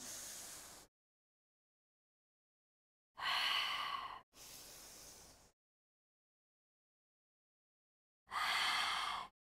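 During a foam roller exercise for the lower back, a person breathes deeply: one breath fades out, then after a pause come two breaths back to back and a final breath, each a loud airy rush with silence between.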